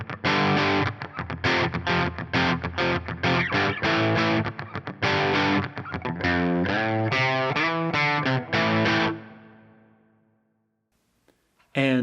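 Electric guitar played through a modelled JCM 800 (Brit 800) amp on a Fractal preset, with driven chords and picked phrases ringing out loudly for several seconds before fading to near silence.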